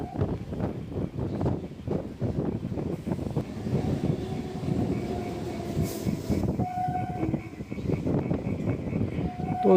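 A local train on the Sealdah–Canning line runs just after pulling out of Ballygunge station, with continuous rhythmic wheel clatter and rumble, and sustained tonal whine or horn-like notes near the end.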